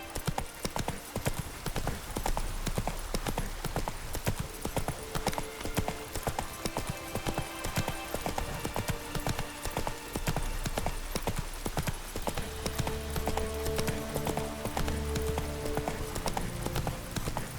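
Roach, Geralt's horse in The Witcher 3, gallops with fast, dense hoofbeats that run continuously and loud over game music and ambient sound.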